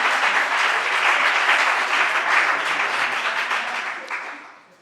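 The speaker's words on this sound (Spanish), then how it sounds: "quiero que le demos un aplauso a las intérpretes que están ahí" A conference audience gives the interpreters a dense, continuous round of applause, loud and full at first and then tapering off into silence.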